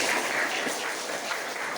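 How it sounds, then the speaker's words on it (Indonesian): A classroom of students gives brief applause, a soft, diffuse patter of many hands heard from a slight distance. "kasih tepuk tangan Mas."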